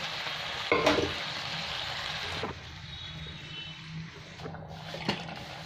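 Chicken stir-fries in a Bengali-style kadai for chicken curry, giving a soft, low sizzle with a few scraping stirs of the utensil, one louder near the start, at fairly low volume.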